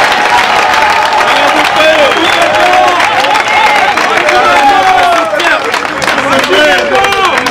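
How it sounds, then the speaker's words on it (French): A crowd applauds the President of the Republic at a political gathering, loud dense clapping mixed with cheering and babbling voices, continuous and close. "Applaudissez pour le président de la République."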